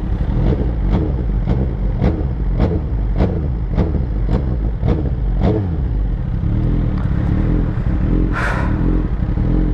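Suzuki GSX-R motorcycle engine running steadily and loud throughout, with a regular rhythmic pulse of repeated clattering beats in the first half, then a brief sharp burst near the end.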